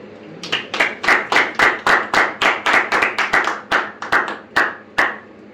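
A church congregation applauding in rhythm, with steady, loud unison claps, about three per second, that slow and thin toward the end.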